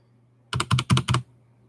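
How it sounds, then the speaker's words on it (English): Four quick presses of a lubed Keychron K4 keyboard switch, each a soft muted thock, evenly spaced and close up with no click. "let's just punch the switch a couple times, and you can see that you don't hear that click anymore"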